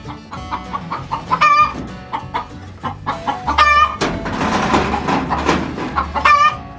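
Hens cluck and squawk repeatedly in uneven bursts in a chicken coop, with a few louder, higher calls rising above the steady farmyard chatter nearby.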